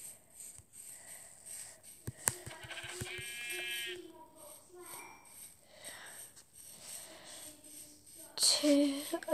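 A sheep bleats loudly with a wavering cry in Minecraft, among thuds, clicks and other game sound effects, followed by a few shorter bleats.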